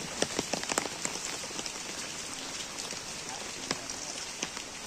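Rain falls steadily on a surface in rural Pandeglang, Banten, making a dense, continuous patter with sharper individual drops popping out near the start, heard close and without talk.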